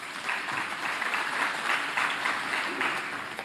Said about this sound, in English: I want us to give a big round of applause to the police